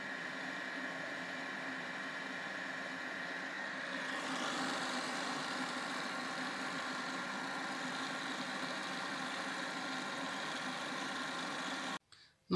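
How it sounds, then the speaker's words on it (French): Food processor blending almonds for Moroccan sellou at speed six, a steady, continuous motor whir lasting about twelve seconds that shifts slightly partway through, then cuts off abruptly. "Donc petit à petit, on va mixer pendant 30 secondes. Vitesse 6,"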